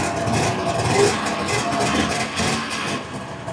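Vintage two-stroke snowmobile engine running at a steady, loud, close drone, a continuous buzzing roar with slight surges and no clear voices over it.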